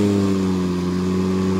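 Milwaukee battery-powered lawn mower spinning up and holding a steady, loud electric whine with strong tonal hum, running continuously at close range with no voices.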